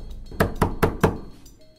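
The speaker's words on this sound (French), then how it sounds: "On a frappé à la porte." Four firm knocks on a door, evenly spaced and close, played as a sound effect in a French audio drama, followed by a brief quiet tail.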